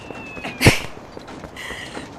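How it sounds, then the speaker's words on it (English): A kitten meows in The Legend of Zelda: Twilight Princess HD, one short bright cry near the middle, with faint game ambience before and after. "Oh, look, you can carry the kitten, too."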